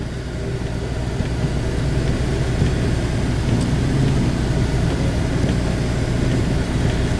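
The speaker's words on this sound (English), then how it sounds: "I don't know why my 4-wheel drive makes noise" A truck with four-wheel drive engaged drives through wet, heavy snow, giving a steady low engine drone and drivetrain rumble that holds constant and loud from start to finish, with no talking.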